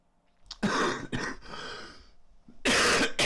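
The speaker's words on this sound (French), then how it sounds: "Excuse-moi, je tousse." A person coughs several times in loud, rough bursts, with a short harsh fit near the start, a pause with breathy throat noise, then a final strong cough close by.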